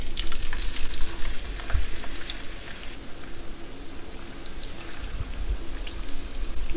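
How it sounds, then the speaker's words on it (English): French fries sizzle and bubble loudly in hot oil heated above 300 degrees for the first stage of a double fry. The crackling frying noise is close and continuous, with no talking. "I'm going to say that this is ready to put some fries in."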